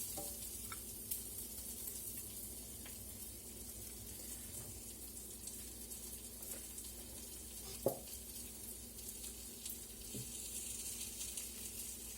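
Shredded potato hash browns frying in a pan of oil, a faint, steady sizzle running throughout with a couple of small clicks and knocks.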